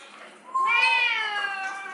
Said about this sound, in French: mon chat il parle pour vrai, j'ai même pas besoin de l'imiter